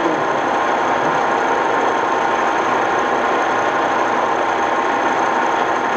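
Carlton 4-foot by 9-inch radial drill running quietly under power, a steady, even mechanical hum with a continuous high whine and no pauses, sounding close and constant throughout.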